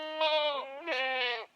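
A horned goat caught in a wire fence gives two loud, close bleats back to back, each wavering and drawn out.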